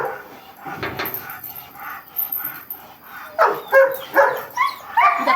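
A dog in bite training on a protective arm sleeve, first whimpering and yipping, then giving a run of sharp, loud barks close by, with faint human voices underneath.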